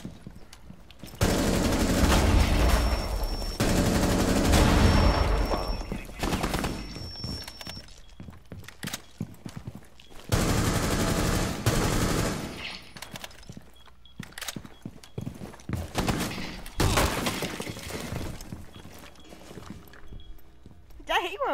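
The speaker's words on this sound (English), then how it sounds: "A lot of wallbang bullets." Rainbow Six Siege wallbang gunfire, with dense bursts of rapid shots punching through walls, loud and close, then sporadic single cracks and further short volleys while players talk throughout.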